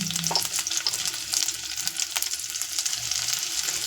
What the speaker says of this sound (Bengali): এবারে কারি পাতা রসুন আর কাঁচা লঙ্কা একসাথে ভালো করে নাড়াচাড়া করে নিয়েছি জিরের সাথে